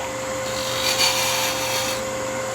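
Bowl gouge cutting a bead on a hollowed wooden Christmas ornament spinning on a lathe, a steady close scraping hiss with a slight swell midway, no talk.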